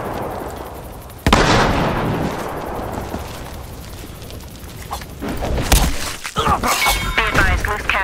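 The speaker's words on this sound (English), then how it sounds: "Tossing incendiary, watch it!" Incendiary grenade thrown in Battlefield Hardline multiplayer, bursting with a sudden loud crackling whoosh followed by sustained roaring fire and scattered game sound effects and shouts.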